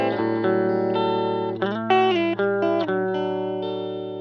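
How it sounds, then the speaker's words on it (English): Electric guitar through a pedal straight into a tweed Champ amplifier plays a few ringing notes and short melodic phrases with a slight overdriven edge, close and clear, with no talking. "So basically, this is the sound of the pedal just going to the amplifier."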